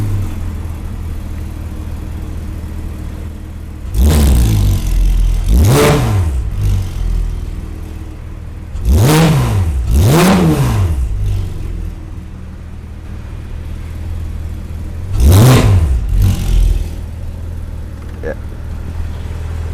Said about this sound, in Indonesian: hari ini kita khusus pakai double mic karena mic di belakang khusus untuk tangkap suara dari knalpot